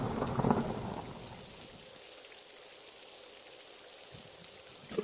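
Steady rain patters and hisses throughout, with a low rumble of thunder near the start before the downpour continues alone.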